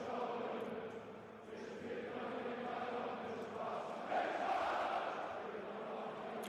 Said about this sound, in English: Absolutely belting out their theme tune